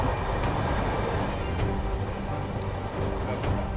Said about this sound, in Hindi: हमें रोक करके सचखंड एक्सप्रेस को निकाल दिया